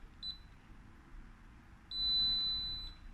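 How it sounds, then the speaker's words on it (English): A Geek L-B200 fingerprint door lock gives a short electronic chirp during enrollment, then a steady, clear, high-pitched long beep lasting about a second after a pause. "After a long beep, you'll be fine."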